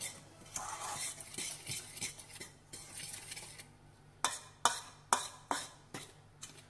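Flour being mixed with garlic powder and a pinch of salt in a bowl, soft brushing stirs followed by a run of sharp utensil clinks against the bowl, close and alone.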